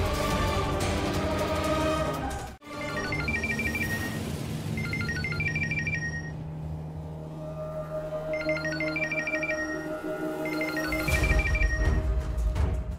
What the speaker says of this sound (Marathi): कामिनीजी या कशाला फोन करतायत?